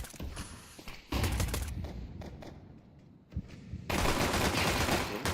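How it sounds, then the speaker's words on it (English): Dual Berettas pistols fire in the Counter-Strike video game during an esports match, with loud, rapid bursts of sharp shots, then a quieter lull and a final heavy stretch of gunfire. "Martinez with the dual Berettas up close"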